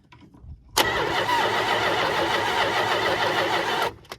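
A 1973 Plymouth Satellite engine cranks briefly and catches, then runs loud and steady for about three seconds before cutting off abruptly, near and alone without talk.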